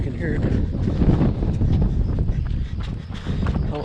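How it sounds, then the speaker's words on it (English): Heavy gusting wind roars steadily across the microphone on Cone Pass along the Pacific Crest Trail, a broad rushing buffet with footsteps faintly beneath it. "It's really windy coming into the Cone Pass."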